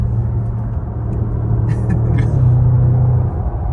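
An Audi RS6 C7 drives along with a loud, close, steady engine rumble and road roar, the note shifting slightly partway through, no voices.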